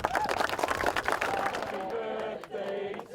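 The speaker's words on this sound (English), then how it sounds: "round of applause to all of you. Come on, give yourselves a clap." First-time triathletes at a Liverpool triathlon clap for themselves, a dense patter of many hands close by with crowd noise and voices mixed in, thinning slightly toward the end.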